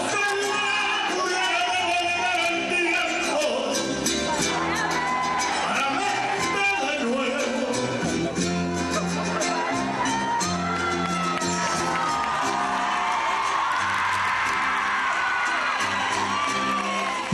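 A concert audience at a show in a theatre cheers and whoops in a loud, continuous roar, with a voice speaking over the crowd throughout.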